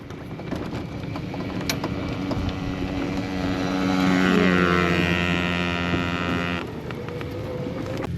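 A small Yamaha PW50 dirt bike engine whines louder and higher as it rides close past on a farm, then drops back to a steadier drone.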